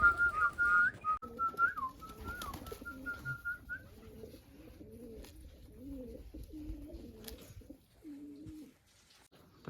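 Pigeons at a village pigeon loft give soft, low cooing calls in repeated bursts through the second half, after a few brief whistle-like notes at the start, all fairly quiet with no talking.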